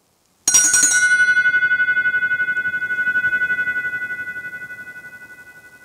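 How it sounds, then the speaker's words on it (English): Homemade bell cast from bell bronze, struck once and left ringing: a bright metallic strike followed by a clear, sustained pure tone that slowly fades with a gentle pulsing wobble, heard alone. "Just keeps ringing and"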